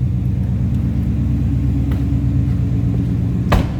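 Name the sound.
Ford Mustang 5.0 V8 engine rumble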